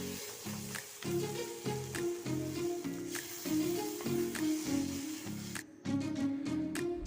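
Tomatoes sautéing in a pan for brinjal masala make a soft, continuous sizzle with a brief gap near the end, while louder pulsing background music plays over the cooking.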